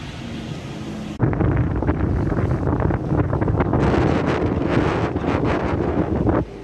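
Strong wind of about 27 knots roars around a sailing yacht approaching Porto, a loud sustained buffeting that starts abruptly and stays heavy.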